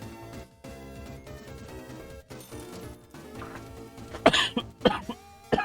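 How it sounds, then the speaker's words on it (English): A person with a worsening cough gives a few harsh, abrupt coughs near the end, loud and close, after a stretch of background music. "My coughs are getting a little more violent"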